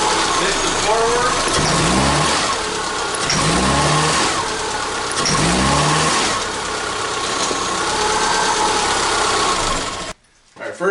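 A 2006 Subaru engine revs in forward gear to about 2200 RPM in about three repeated surges, pitch climbing and falling back each time, loud and close.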